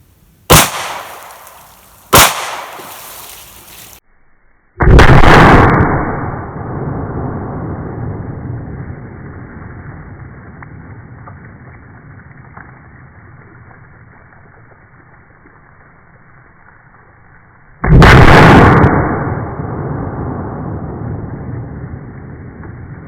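9mm Speer Gold Dot hollow points fire in four sharp, loud gunshots spaced out over about twenty seconds, the later two each followed by long, ringing echoes that slowly fade.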